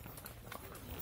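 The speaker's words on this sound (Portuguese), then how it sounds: "Ô, cavalo velho importado." Horse hooves clip-clop steadily at a cavalcade ride in Martinópolis, São Paulo, blended into a faint, busy outdoor wash of crowd noise and voices.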